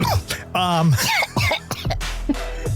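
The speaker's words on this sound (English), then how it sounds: "not only are you coughing on this podcast" A person coughs and clears their throat amid speech and laughter, close to the microphone.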